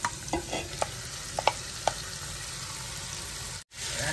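Beef for an Indian-style curry is stir-fried in a large pot, with a low sizzle under several sharp utensil clacks and scrapes at irregular intervals, close by, then a brief cut to silence.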